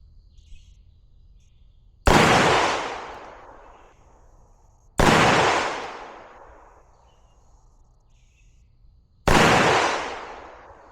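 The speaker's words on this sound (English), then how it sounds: "we're going to put 5 rounds down range right at that" A Smith & Wesson SD9 pistol fires at a target on a range: three loud, sharp shots spaced a few seconds apart, each ending in a fading echo.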